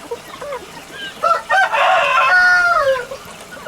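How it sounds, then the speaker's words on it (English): An Aseel rooster crows loudly and close by, one long drawn-out call, with no talking. "I got some nice roosters. They're really pretty roosters."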